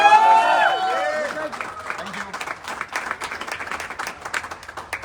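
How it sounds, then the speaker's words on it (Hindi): An audience claps loudly at a motivational AWPL achievement gathering, a dense burst of applause that follows a brief tonal sound and stays steady and fairly close. "जोरदार तालियां बजाते करिए।"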